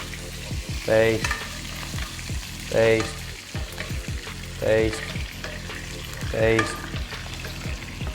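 Meat basting in a hot sizzling pan, a steady fry punctuated by four periodic louder bursts of spooning and stirring, close up with no talk.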